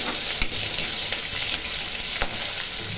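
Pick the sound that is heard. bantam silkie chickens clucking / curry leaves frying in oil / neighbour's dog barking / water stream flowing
curry leaves frying in oil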